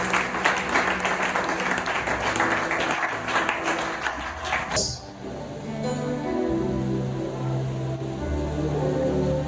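A church congregation applauding the Lord with sustained clapping that cuts off abruptly midway, followed by quieter sustained music and murmuring.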